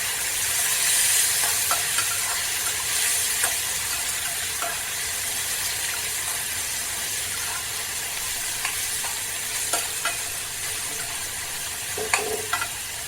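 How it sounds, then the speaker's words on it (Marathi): Chopped ripe red tomato and onion frying in hot oil for a vegetable dish, a steady close sizzle with occasional soft stirring scrapes and clicks, no voices. "एक टोमॅटो घ्यायचा बारीक कापून घ्यायचा एकदम ताजा ताजा लाल कलरचा टोमॅटो घेतलेला आहे एकदम पिकलेला तोही टाकून आपण तेलामध्ये भाजून घ्यायचा"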